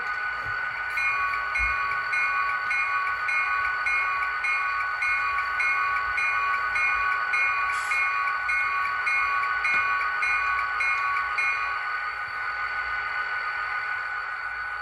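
A Scale Trains model Southern GP30 locomotive's bell rings in a steady repeating rhythm over a continuous idling engine drone, close and fairly loud, with a faint clank partway through.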